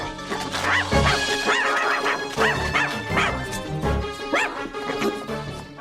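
In a movie scene, a dog made of balloons barks in rapid, excited yaps and whimpers while chasing prey, over busy, loud scene sound with music or effects underneath.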